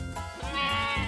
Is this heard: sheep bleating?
yes